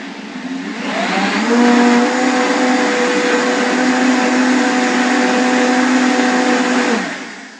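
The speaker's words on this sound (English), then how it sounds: "Make sure you put the cover on again, and we will puree it for just a few more seconds." A countertop blender purees taco soup with hemp seeds, spinning up with a rising whine and then holding a loud, steady roaring hum for several seconds before winding down.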